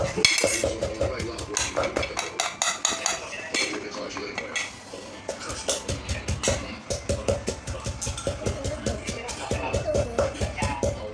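Young tamarind salad is pounded in a mortar set on a cloth pad, a steady rhythm of close, repeated thuds with clattering, clinking hits throughout.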